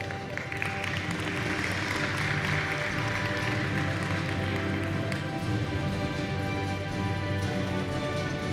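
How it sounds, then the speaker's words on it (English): Audience applause fills a livestreamed partner presentation, a steady dense clapping crowd sustained throughout at moderate loudness. "a round of applause for Genesis"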